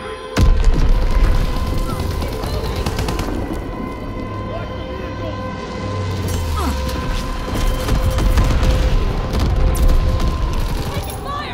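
Enemy bombs burst in Call of Duty: WWII, heavy booming explosions and rumbling battlefield noise with gunfire and machinery churning continuously under a soldier's shouted warning.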